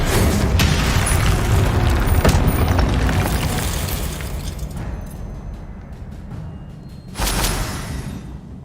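A Confringo blasting spell explodes in the Hogwarts Legacy video game, a heavy rumbling boom that slowly decays, followed by a second sharp burst near the end.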